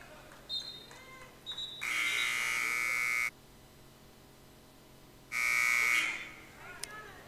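A loud, harsh electronic arena buzzer at a women's basketball game sounds twice, each blast lasting over a second, separated by a quiet pause with faint background noise.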